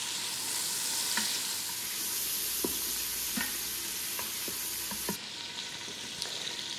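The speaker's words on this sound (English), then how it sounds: "We are going to sauté the pancetta just until it renders its fat." Diced pancetta sautéing in a pan to render its fat, giving a steady, dense sizzle with occasional soft stirring taps and scrapes.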